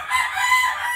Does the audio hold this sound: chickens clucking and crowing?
yes